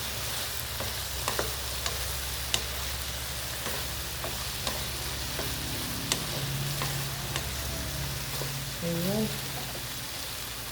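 Eggplant frying in a pan, a steady close sizzle and crackle with a few soft clicks of stirring, and a voice speaking briefly over it near the end.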